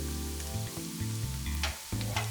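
Garlic sautéing in butter in a cleared space among softened onion, carrot and celery for a turkey pot pie, a faint continuous sizzle with low clunks of stirring, no voices.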